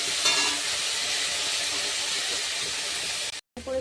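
Ground spice paste frying in hot oil for a rohu fish curry, a steady close sizzle and hiss running almost without a break, cut by a short silent gap near the end.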